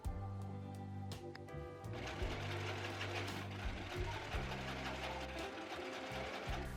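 A sewing machine stitches the first side seam of an upcycled men's shirt, its rapid motor whir running continuously and close, with a brief slower start before full speed.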